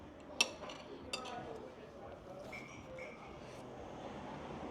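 Cutlery chinks against a plate as a knife chops toast during a pub breakfast, a few sharp clinks over a low murmur of room noise, fairly faint.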